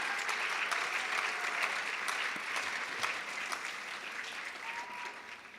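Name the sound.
audience applause for pageant contestants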